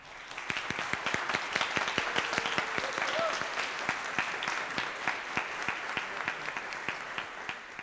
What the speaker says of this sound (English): One more round of applause for Carolyn.